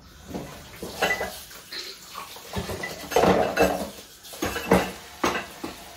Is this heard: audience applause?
no